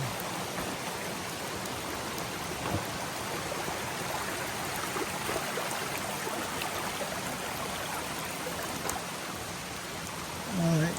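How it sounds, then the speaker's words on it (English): Waterfall and stream flowing over rocks on a hiking trail, a steady broadband rush of water close by, with a brief voice near the end. "Pretty cool waterfall now, stream"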